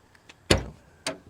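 Trunk latch on a 1951 Chevrolet Styleline Deluxe popping open with a sharp metallic click, followed half a second later by a second, lighter clunk as the lid releases.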